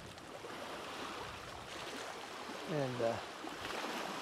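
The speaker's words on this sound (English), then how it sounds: "there's no boats out, so these waves are just from the wind" Wind-driven waves lapping on Big Hill Lake in Kansas with no boats out, a soft continuous watery wash heard at a distance, faint under the breeze, while a voice briefly speaks near the end.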